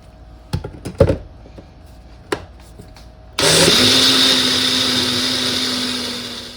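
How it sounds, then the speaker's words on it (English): A kitchen blender pulverizes avocado with milk and water for a creamy sauce, starting abruptly after a few light clicks and taps, then running as a loud, steady high-pitched whir that eases slightly toward the end. "that pretty much looks like it pulverized that avocado"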